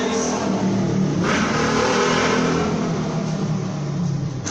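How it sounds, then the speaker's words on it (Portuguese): Motorcycle revving and accelerating in front of a church, a loud continuous engine roar with a surge partway through. "Em frente à igreja, acelera a moto."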